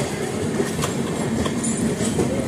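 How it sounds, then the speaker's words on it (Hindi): Udhyog Nagri Express, train no. 12174, running on the rails, giving a loud, steady rumble with faint clickety-clack and light wheel squeal throughout. "तो अपनी ट्रेन चली गई इधर मुंबई वाले रूट पे"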